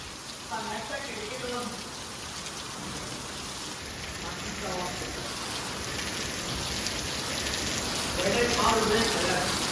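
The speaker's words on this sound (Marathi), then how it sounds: "पाऊस बघा मोकार पाऊस पडते मोकार" Heavy rain pours in Ulhasnagar, a dense, steady hiss of drops on surfaces that swells slightly toward the end, with faint voices mixed in.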